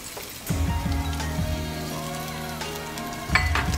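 Onion hits hot oil in a pan for chicken arroz caldo and sets off a sudden, close sizzle. The frying crackles steadily after that, with a brief spatter near the end.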